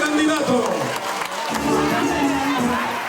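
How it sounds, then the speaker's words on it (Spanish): A crowd at a political rally for a Colombian presidential candidate applauds and cheers in a dense, continuous roar lasting a few seconds. "El aplauso para nuestro candidato."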